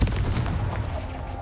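A Confringo fire-blast spell explodes in Hogwarts Legacy, a heavy booming blast up close that rolls into a sustained low rumble and crackle over a second and a half.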